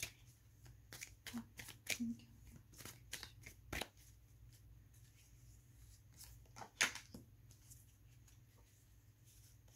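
Playing cards riffle and snap in quick, uneven bursts close by, faint and crisp over a low room hum, with soft talk at moments.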